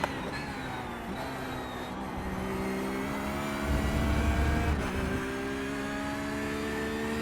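A Porsche 911 GT3R race car engine at Road America in iRacing, a steady whining drone with gear-change shifts and a rising then easing pitch, heard throughout with no talk.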